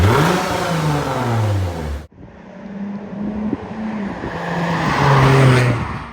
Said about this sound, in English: for baseline reference, this is what the car currently sounds like